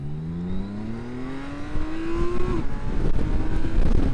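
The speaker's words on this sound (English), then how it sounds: "I love this motorcycle." A motorcycle speeds up, its engine tone climbing steadily over several seconds before a gear change, then continuing to build louder with rushing wind noise around it.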